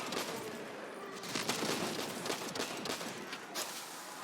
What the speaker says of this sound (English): You can see how much damage this gun does.